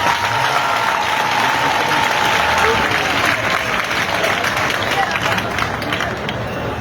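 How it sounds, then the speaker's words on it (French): A crowd claps and cheers loudly and continuously for the deputy mayor at a public ceremony during a town cultural week, with voices shouting within the sustained applause. "Je voudrais qu'on l'acclame, ce soit très fort."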